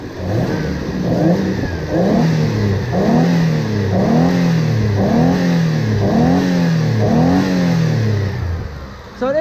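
A car engine with an EFI fuel pump under test is revved repeatedly, about eight rising-and-falling vroom cycles in steady rhythm, loud and close with no talk.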